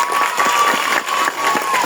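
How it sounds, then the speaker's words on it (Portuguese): Audience applause for Emily, a former pupil, at a Black Consciousness presentation, a steady moderate patter of many hands that holds evenly for about two seconds with no talk over it. "Vamos dar uma salva de palmas para a Emily."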